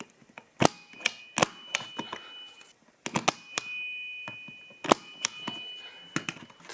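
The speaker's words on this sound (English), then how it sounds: "The punch down tool has a pusher and a blade side." Punch down tool cutting network cable wires into a jack during a TV and network cabling install: sharp, close snapping clicks in irregular clusters, with a faint steady ringing tone in the background.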